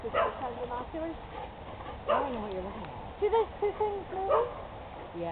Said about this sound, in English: To the wonderful sound of our dogs.